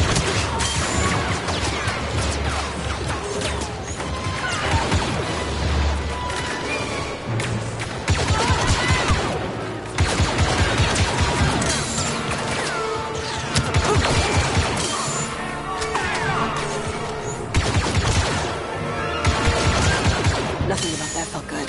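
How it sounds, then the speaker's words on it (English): Blaster fire in Star Wars Battlefront 2 comes as dense, rapid bursts of shots and crashes, loud and sustained, with voices talking at points between volleys. "Blaster, open fire!"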